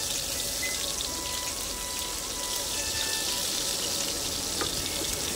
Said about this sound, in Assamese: পিঁয়াজখিনি ৰঙা হোৱালৈকে মই অলপ ভাজিম।